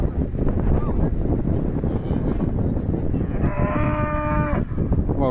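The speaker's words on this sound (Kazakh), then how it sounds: "Жуас малдар ғой енді, өзіміздің үйдегі малдар." Tame household cattle entering their pen outdoors, with one drawn-out moo rising near the end over steady wind buffeting the microphone.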